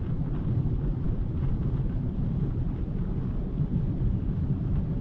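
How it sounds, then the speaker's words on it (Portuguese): Opel Astra hatchback with a 180 hp engine on a Peugeot base, driven hard in sport mode in sixth gear near 200 km/h: a dense, steady engine roar mixed with heavy wind rush, continuous and loud throughout. "Dá pra ver que o motor grita bastante, mas mantém a sexta"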